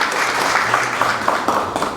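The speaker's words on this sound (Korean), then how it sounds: "박수 한번 부탁합니다" An audience at a legal forum on cases of preferential treatment for former officials claps together, a loud, even burst of applause filling the room with a few sharper hand claps standing out.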